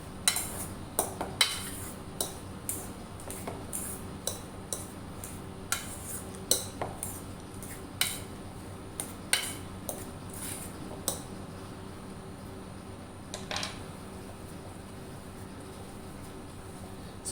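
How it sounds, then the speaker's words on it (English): A spoon stirs and mixes spiced potato stuffing with garam masala in a bowl, giving a steady series of light metallic clinks and taps over soft squishing for most of the stretch, then tapering off. "Now I'm going to mix these together."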